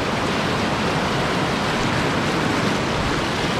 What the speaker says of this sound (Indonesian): Di sini kita ngelewatin sungai kecil gitu guys